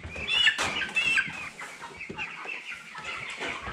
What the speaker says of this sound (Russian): Вот. Курочка.